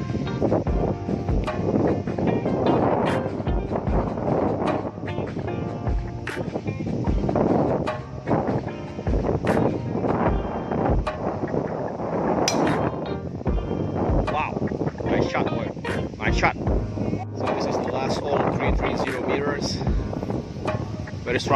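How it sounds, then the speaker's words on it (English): Strong headwind on a golf course buffets the microphone in a constant loud rush with irregular gusty bursts, while people talk intermittently. "Very strong wind from the front."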